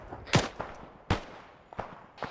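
Four separate gunshots in a video game firefight, sharp and fairly close, spaced irregularly with quiet gaps between them and faint softer shots in the background.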